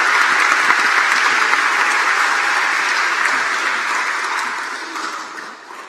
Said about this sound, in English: One more round of applause for all of our speakers today.